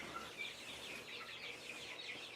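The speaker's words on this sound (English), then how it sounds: "We got little quails here, more quails here, and there's chickens here." Chickens in a barn, kept alongside quails, give soft clucks and chirps over a faint, steady background hum.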